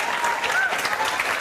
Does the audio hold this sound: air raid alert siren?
no